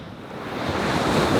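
Ocean waves breaking on a shallow bank beside a beach gutter, a broad rushing surf wash that swells slightly louder toward the end, mixed with wind buffeting the microphone.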